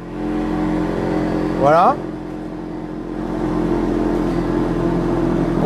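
A car with a four-outlet exhaust starts up, a short engine burst rising sharply, then settles into a steady, loud idle hum that swells slightly, with a brief spoken word near the start.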